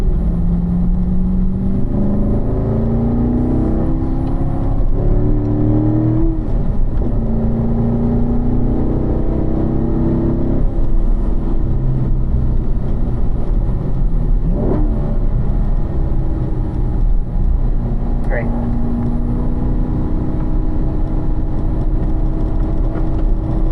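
On a race track, a car's engine revs rise and fall as it swings through corners, a loud, continuous mid-pitched drone with shifting pitch sweeps and no talking.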